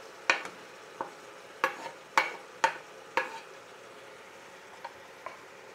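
Spoon scraping and clinking in a pot of potatoes and carrots for vegetable soup in irregular strokes, a handful of sharp knocks followed by fainter taps, with no talking.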